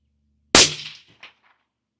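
A single sharp sniper rifle shot cracks out loud and close, its report decaying over half a second with a faint echo or distant impact following.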